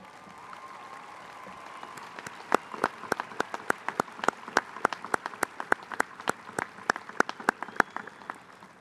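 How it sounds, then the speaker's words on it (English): Round of applause from the audience at a 2021 Florida Atlantic University spring commencement honoring student athletes, starting as scattered clapping that grows into a steady crowd ovation with distinct sharp claps over a soft background. "applause from your FAU fans"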